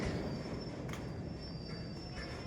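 The Haldibari–New Jalpaiguri passenger train rumbling along nearby, a continuous heavy low roar with occasional brief metallic squeals from the wheels.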